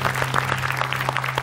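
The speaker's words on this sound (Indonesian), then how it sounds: "Tepuk tangan dong buat teman-teman kita" A short stretch of steady clapping from a small TV talk show studio audience, dense and even, with no talking over it.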